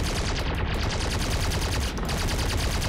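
Aircraft cannons fire in War Thunder as a loud, continuous rapid burst of gunfire, dense and unbroken for nearly three seconds, with only a momentary dip near the end.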